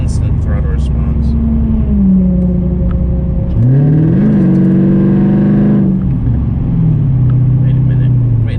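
A Mercedes CLK500 W209 V8 fitted with a sprint booster revs loudly and close by, rising in pitch for a couple of seconds before falling back to a steady idle, with a person talking over it.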